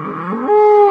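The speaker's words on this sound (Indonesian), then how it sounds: "Banteng." A banteng, a wild cattle species, gives a single short call that starts as a rough, low bellow and settles into a steady, strained tone. It is loud and close, heard alone.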